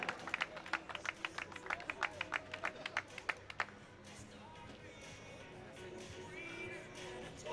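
Clapping for the winning crew at the 2017 Mecsek Rally trophy ceremony, a burst of fairly distant claps lasting about three and a half seconds, then faint crowd murmur.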